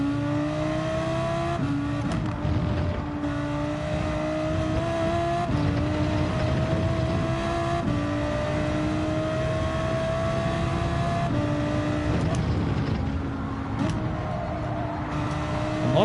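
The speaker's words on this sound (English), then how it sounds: "On Assetto Corsa, I had a video with the RSR and this was the real sound" A Porsche RSR race car in the Assetto Corsa racing game, its loud engine revving hard through repeated upshifts, each gear climbing in pitch before dropping, continuous and close with no voices.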